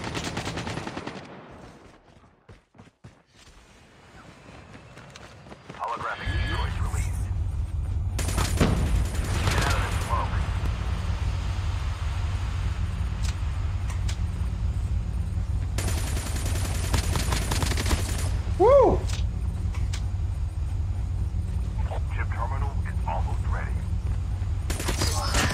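Arctic 50 sniper rifle fire in a shooter video game, with loud sharp shots and dense bursts of gunfire in separate clusters, between quieter stretches with a low steady background hum.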